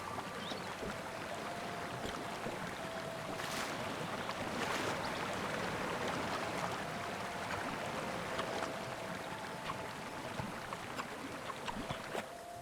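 A waterfall in the video game Chicory: A Colorful Tale, heard as a steady, even rush of falling water that continues unbroken throughout, with faint tonal sounds above it.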